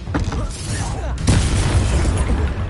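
A Confringo blasting spell exploding in the video game Hogwarts Legacy: a loud, broad boom bursts out mid-clip over a dense, rumbling battle din, with a fainter crack just before it.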